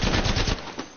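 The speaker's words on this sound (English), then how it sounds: "Opening fire on the enemy." Rapid automatic gunfire rings out in the Apex Legends video game, a short close burst of several quick shots that fades within a second.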